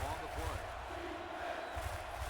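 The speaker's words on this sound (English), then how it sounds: "The Stoats crowd trying to put some life into their defense" A Seattle Stoats home crowd at an American football game roars steadily in a broad, sustained wash of cheering, with a few distant shouts rising through the noise throughout.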